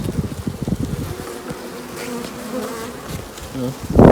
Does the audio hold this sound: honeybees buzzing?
yes